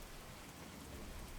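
Rain pours on a stormy night in a national park, a steady, even wash of drops that stays faint and constant throughout, with no voices.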